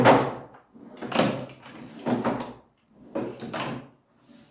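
A Qbrick System PRO Drawer 2.0 toolbox drawer slides open and shut several times, each a short, smooth rolling glide with soft bumps at the ends. The sounds are close, quiet and evenly spaced.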